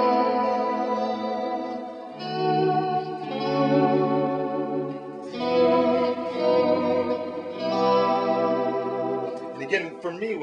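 Electric guitar volume swells drenched in reverb, each chord fading in smoothly and washing into the next, with wavering whammy bar vibrato making the sustained notes pulse back and forth; a tutorial demonstration of the swell effect, loud and alone.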